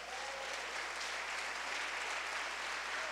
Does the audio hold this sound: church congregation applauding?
yes